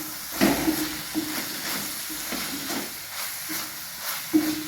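Guar bean vegetable with roasted besan and coarsely crushed peanuts being stirred in a pan, with a steady soft sizzle and hiss broken by several light scraping strokes of the spoon at irregular intervals.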